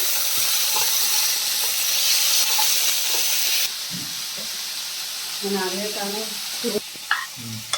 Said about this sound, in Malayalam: തക്കാളി ഇടുന്നു നമ്മുടെ കറിവേപ്പില ഇതെല്ലാം കൂടെ നമുക്കൊന്ന് വാട്ടിയെടുക്കാം അത്യാവശ്യം ഒന്ന് വഴറ്റിയെടുക്കാം